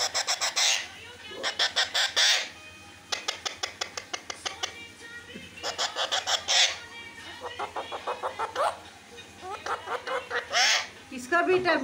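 A pet parrot whistles loudly in repeated bursts of sharp, rapid chirping trills, close to the microphone, with brief pauses between phrases and low background hum.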